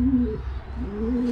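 A pair of pigeons being bred cooing close by, two drawn-out low throaty coos separated by a short pause, steady and clear with no talking.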